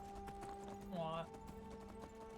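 Horse hooves clip-clop steadily in Skyrim as a rider climbs a mountainside, a soft rhythmic patter under continuous game music and ambient noise, with a brief louder swell midway.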